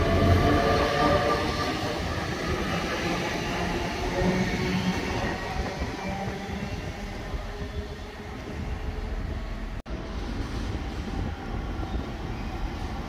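An Elizabeth Line train rumbles past close by in the rain, a steady broadband roar with rattling wheels that holds for the whole stretch, with a brief dip near the end.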